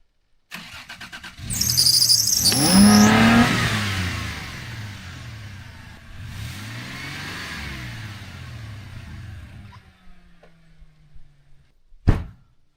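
A car leaves the main highway for the wilderness: the engine starts, revs up loudly and pulls away, then settles into a lower, fading drive before a sharp thunk near the end.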